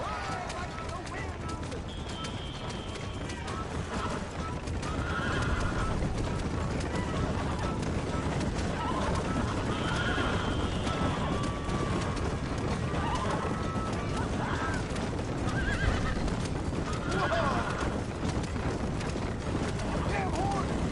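Horse neighing and galloping in the Western video game Red Dead, whinnies rising repeatedly over steady hoofbeats and background game noise, with a voice shouting over it.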